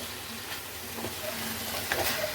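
Amaranth leaf chutney (thotakura pachadi) being stirred in a pan, a continuous soft sizzle with scraping strokes, close and steady with no talking.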